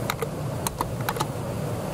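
Quick, light keystrokes on a computer keyboard typing a town name, several close clicks in a short irregular burst over a faint steady background hum.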